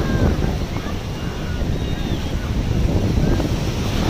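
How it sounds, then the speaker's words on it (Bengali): Sea waves roll onto Digha beach, a steady broadband wash of surf mixed with gusty wind buffeting the microphone, continuous and fairly loud throughout with no distinct breaks. "প্রচুর ঢেউ"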